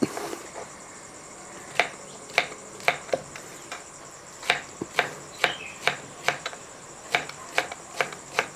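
Knife chopping washed bitter gourd (pavakka) on a cutting board, a dozen or so sharp close taps spaced unevenly, quickening toward the end, alone without talking.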